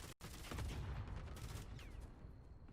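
Rapid gunfire from a Warzone match, a dense, loud burst of shots running almost the whole time after a brief break near the start, with a steady rumble of battle underneath.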